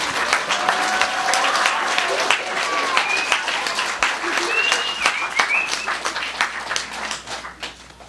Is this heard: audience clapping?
yes